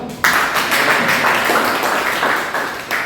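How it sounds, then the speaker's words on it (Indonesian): A steady round of audience applause bursts in sharply and holds at close, even loudness for about three seconds before easing slightly at the end. "terima kasih tepuk tangan dulu"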